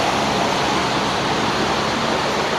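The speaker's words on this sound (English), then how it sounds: "it's beginning to get hot out here. So we had to crank up the fan." A loud electric fan running close by, a steady broadband whoosh of moving air with no change and no voices.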